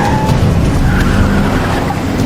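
An armored cash-transport truck skids to a stop in a film scene, producing one loud, continuous tire screech over a heavy engine rumble that lasts throughout and cuts off abruptly, with no voices.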